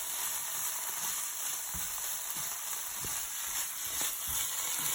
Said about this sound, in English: We're going to mix this ham in here.